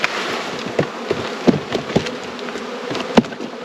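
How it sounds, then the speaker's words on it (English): Honey bee swarm buzzing as the bees are shaken into a box, a dense, close droning hum mixed with irregular knocks and thumps from the box. "A lot of bees will start going up into the air, but hopefully they'll like the box and land back into it."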